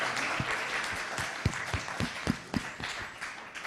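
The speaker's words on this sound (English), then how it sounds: "Please give a round of applause for all our newcomers." Church congregation applauding newcomers at a Sunday service, a steady wash of clapping with several sharp, close individual claps punctuating it.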